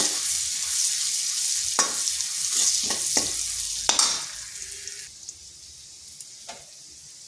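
Crushed ginger and turmeric fry in hot oil with a steady broadband sizzle, punctuated by several sharp stirring scrapes and clinks of a utensil against the pan; the sizzle quiets slightly toward the end.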